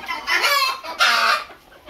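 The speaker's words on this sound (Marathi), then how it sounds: "कोंबड्या कशा आवडीने गहू खातात।" Country chickens clucking close by while eating soaked wheat, in two loud bursts, brief throaty calls with a short pause between.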